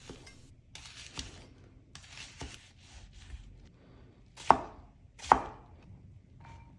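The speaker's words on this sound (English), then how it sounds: "Then we'll want to chop up 1 yellow onion." A knife chops a yellow onion on a board in a few quick, light cuts, followed by two sharp, louder thuds about a second apart, with quiet pauses in between.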